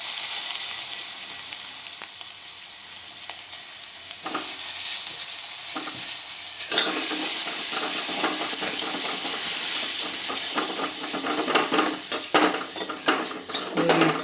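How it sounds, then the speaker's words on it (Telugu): Something sizzles and fries in a pan on a low flame while making pepper rasam, a steady hiss with scraping stirs and clinks of a utensil against the pan, growing busier toward the end. "బాగా ఫ్రై చేయి"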